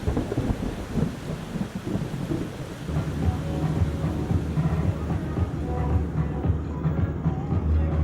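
Rain falls with rolling thunder, a broad rumbling wash that settles into steady patter with faint tonal hum later, loud and close throughout with no talking.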